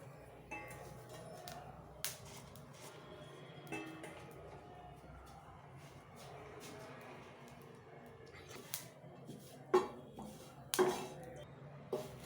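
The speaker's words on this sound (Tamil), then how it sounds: "அதே கடாயிலே கருவேப்பிலை போட்டு வறுத்துக்கலாம்" Curry leaves roasting in a hot kadai while preparing a natural herbal hair dye crackle in sharp, scattered pops and snaps, close and fairly quiet, with brief louder bursts toward the end.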